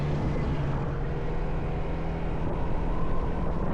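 A Honda Click 160 scooter fitted with a circuit-style exhaust runs steadily up close, giving a continuous, even engine drone with no talking over it.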